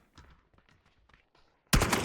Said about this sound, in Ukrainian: Ох, хтось стріляє.